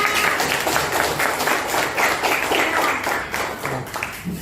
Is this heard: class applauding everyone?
yes